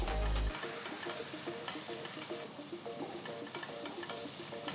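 Finely chopped onions frying in ghee with cinnamon, cloves, cardamom, star anise and bay leaf, a continuous close crackling sizzle with small scattered pops and stirring clicks throughout.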